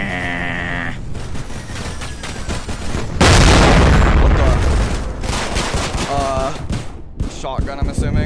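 Shotgun fire in a VR shooter game: a loud, dense burst of blasts erupts partway through, with a clattering tail and other game noise and music around it.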